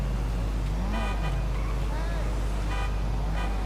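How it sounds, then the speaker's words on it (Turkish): Cars honk in GTA 5 street traffic: several short toots and a longer horn blast rise over a constant low engine drone, with a voice talking beneath. "İstediğimiz kadar korna çalacağız tabii."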